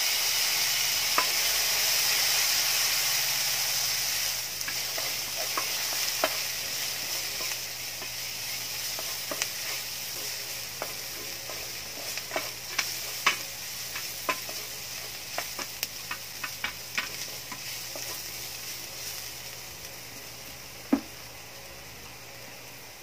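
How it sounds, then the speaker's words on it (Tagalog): Onion, garlic and ginger sauté in a pan, stirred for Filipino ginataang langka, giving a steady close sizzle broken by scattered scraping clicks of the spoon. "Haluin lang natin ito hanggang sa maging light brown ulit."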